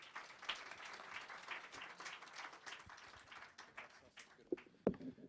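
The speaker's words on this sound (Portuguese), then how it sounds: "uma salva de palmas a eles" Audience applause at a legislative conference on freedom of expression, a steady wash of clapping from a seated crowd lasting several seconds, moderately quiet and distant, with a couple of louder knocks near the end.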